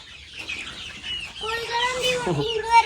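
Chickens cluck on a poultry farm in a busy overlapping chorus of short calls, close and fairly loud, with some voices faintly in the background.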